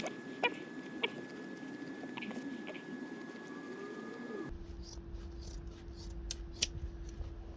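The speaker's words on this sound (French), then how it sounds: "On découpe." Scissors snip through duct insulation for a ventilation pipe in a series of faint, close crisp cuts, with small clicks and rustling of the material between them.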